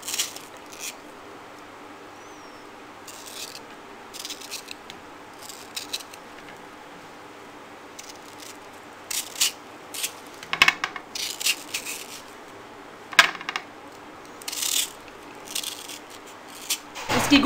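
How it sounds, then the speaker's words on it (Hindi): Knife cutting a peeled mango into small pieces for mango jam, a series of soft, close taps and scrapes on a board, sparse at first and then more frequent, under a faint steady background hiss. "अब इसके हम छोटे छोटे पीस काट लेंगे।"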